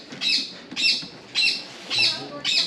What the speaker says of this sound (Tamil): இங்கே பாருங்க, எவ்வளோ அழகாக குயிலெலாம் கத்திகிட்ருக்கு.